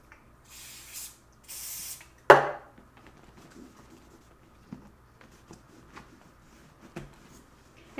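Apple Guarde protector sprayed onto Louis Vuitton canvas in two short, hissing bursts, followed by a sharp tap and faint handling clicks in a quiet room.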